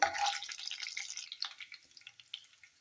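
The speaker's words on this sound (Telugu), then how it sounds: "ఆవాలు, కొంచెం శనగపప్పు. ఇది కొంచెం వేగనివ్వాలి." Mustard seeds and chana dal crackle and sizzle in hot oil for a cabbage and potato curry, a bright spitting burst at the start settling into fainter, scattered pops over a couple of seconds.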